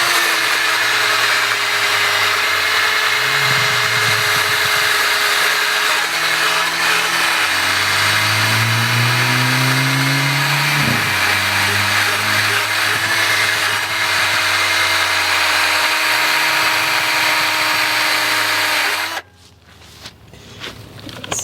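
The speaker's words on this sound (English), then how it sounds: "grab the little wire wheel that I have on a drill" A wire wheel on a drill scrubs surface rust off a 1930s Ford Model A steel frame, a loud continuous whirring grind with pitch shifting as pressure changes, running steadily for about nineteen seconds before stopping abruptly.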